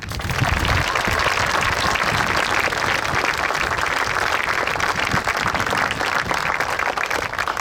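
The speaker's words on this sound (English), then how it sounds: "Please, a big round of applause for all of those that made today happen." An outdoor crowd at a Veterans Day ceremony at the Mount Soledad National Veterans Memorial claps in steady, dense applause that holds for several seconds without speech.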